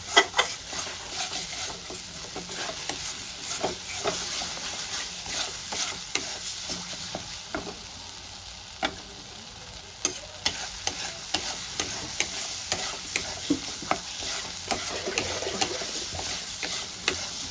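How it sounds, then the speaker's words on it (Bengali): A ground spice paste of ginger, cumin and green chili is stir-fried for a vegetarian paneer curry. A soft, continuous sizzle runs underneath, with repeated clicks and scrapes from a spatula against the pan. No voices are heard. "মশলাটা আমার খুব ভালো করে কষানো হয়ে গেছে"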